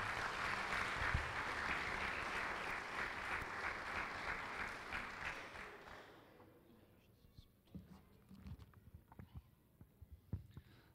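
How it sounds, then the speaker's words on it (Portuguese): A church congregation applauds to welcome the pastor, steady dense clapping filling the first six seconds before stopping abruptly, leaving scattered quiet sounds and soft voices. "Vamos receber nosso pastor com uma salva de palmas, amados"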